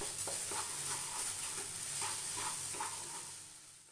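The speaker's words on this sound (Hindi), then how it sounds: "चीनी पके कि भले भाबरे मिक्स कर दबा।" Sugar stirred into banana paste with ghee in a pan for banana barfi, giving a soft steady sizzle with faint scraping strokes at an even rhythm, close and quiet, with no voices.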